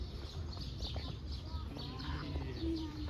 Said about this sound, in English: There's a bird up there, look.